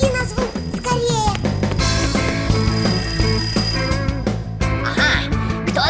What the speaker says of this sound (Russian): Симка, кажется, звонит мой будильник.